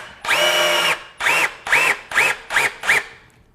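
A power drill fitted with a flathead bit drives a fastener back into a taxidermy form: one long, loud whir, then five shorter bursts that each spin up and wind down, close by with no talk.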